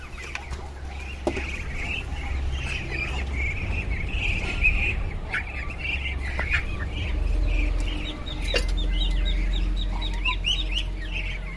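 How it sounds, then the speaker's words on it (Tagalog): Brahma chickens just let out of their pen cluck and chirp continuously in a yard, with busy overlapping calls over a steady low background hum. "pinakawalan ko muna yung mga Brahma"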